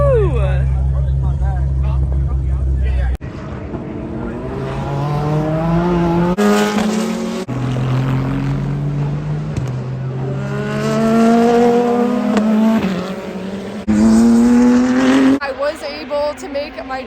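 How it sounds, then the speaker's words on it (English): Mazda Miata race cars lapping the track at WeatherTech Raceway Laguna Seca, their buzzing engines rising and falling in pitch as they pass, heard steadily at moderate distance under nearby conversation. "We have Miatas racing on the track right now, which is why it sounds like little bumblebees"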